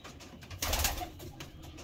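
A male pigeon gives a short, soft coo, close by and alone, lasting about a second.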